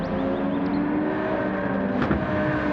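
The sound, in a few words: Lamborghini race car engine in video game Gran Turismo 7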